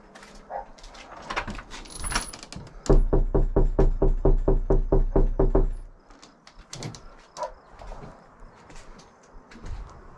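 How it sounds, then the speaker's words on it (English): Steady series of about a dozen loud, evenly spaced knocks on a door, near and alone in the middle, with quieter shuffling and background sounds around it. "Knock, knock. Somebody's here."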